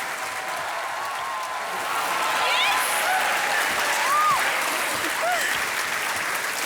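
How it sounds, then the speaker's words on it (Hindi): Studio audience on the KBC (Kaun Banega Crorepati) game show applauding loudly and steadily throughout, a dense sustained clatter of clapping that swells slightly midway, with scattered whistles rising above it. "एक बार फिर जोरदार तालियां"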